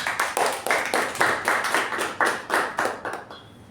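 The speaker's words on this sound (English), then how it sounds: "A round of applause to Toastmaster Latha" Applause at a Toastmasters meeting: a small group claps in a steady, fairly even rhythm of separate hand claps, then tapers off near the end. No voices are heard.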